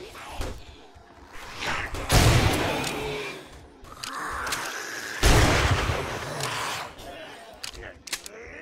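Gunfire in the survival game 7 Days to Die while looting a residence: a few loud booming shots with long rumbling tails, spaced apart, mixed with game noise and brief talking.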